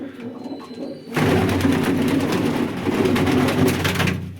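Pigeons of several different breeds from bred bloodlines cooing loudly and close, starting abruptly after a quieter moment and continuing as a dense, overlapping throaty burble.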